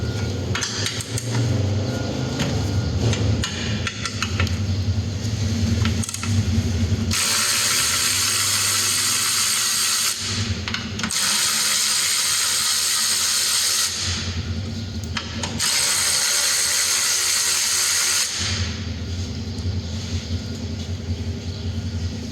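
Ratchet loosening a 13 mm bolt and nuts on the fuel filter cage of a Nissan Qashqai, with rapid repeated clicking strokes in several long bursts, close and loud.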